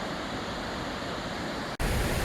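Beaver Falls waterfall in Siuslaw National Forest, Oregon, roars as a steady, loud, broadband wash of falling water heard up close, with a brief dropout near the end before the rush resumes.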